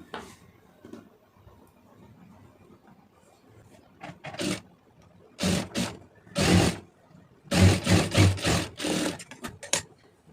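A sewing machine stitches a folded fabric edge without overlocking, running in short loud bursts of rapid mechanical clatter that grow more frequent after a quiet stretch of faint handling noise.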